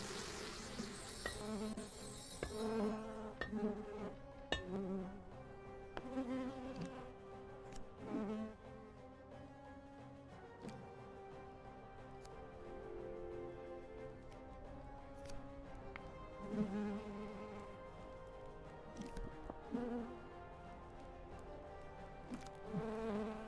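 Barrier bees buzz in the video game Popup Dungeon, a faint, steady insect drone layered with game tones and occasional blips, with no voices.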